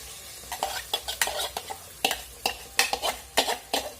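Ground masala paste stirred in a pan for katachi amti, a Maharashtrian lentil curry: a series of close, crisp spoon-scraping strokes in an uneven rhythm over a soft sizzle, with no talking.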